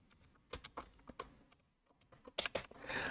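Quick bursts of typing on a computer keyboard, uneven clusters of keystrokes at close range with short pauses, growing busier toward the end.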